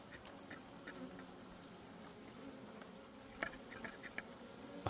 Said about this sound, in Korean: 막 벌이 넘칠 거예요 아마